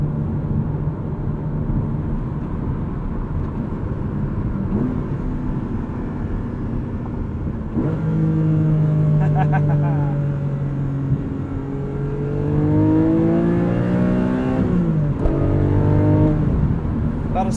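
A 2021 Porsche 718 Cayman GTS 4.0 engine with a manual gearbox hums steadily, then revs hard twice toward its 7,800 RPM redline, rising in pitch with a throaty, climbing whine before dropping back, loud and close.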